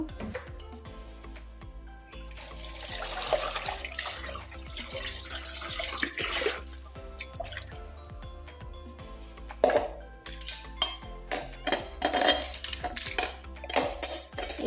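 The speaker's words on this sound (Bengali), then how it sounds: "আজকে একটু চামচ স্ট্যান্ডগুলো একটু গুছিয়ে নিই" Spoons, small teaspoons and ladles clink and clatter repeatedly at close range as they are sorted and arranged into kitchen utensil holders, with metallic chinks in irregular bursts, some soft water-like rustle and occasional talk.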